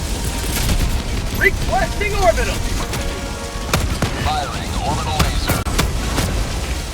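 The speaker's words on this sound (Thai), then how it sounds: "Reloading." A weapon reload in Helldivers 2, with mechanical clicks and ratcheting under ongoing combat noise, scattered shots and players chattering throughout.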